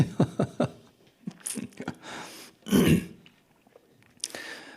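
A person clears their throat and coughs several times in short bursts, with one heavier rasping cough near the end; no speech.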